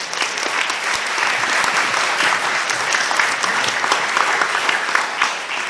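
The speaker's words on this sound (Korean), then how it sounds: "우리 박수로 목사님 환영하겠습니다" A Sunday service congregation at an air force central church claps to welcome the pastor, a full, sustained wave of applause holding steady and loud from start to finish.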